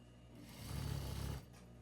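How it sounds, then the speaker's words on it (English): A sewing machine hems silky fabric in a short, low humming burst of stitching under a second long, close by and fairly quiet, with faint room noise before and after. "Fold the edge up by ½ inch and start sewing."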